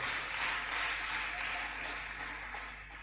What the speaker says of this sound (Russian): Спасибо, что вы мне аплодируете.